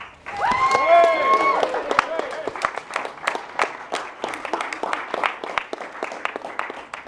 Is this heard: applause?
yes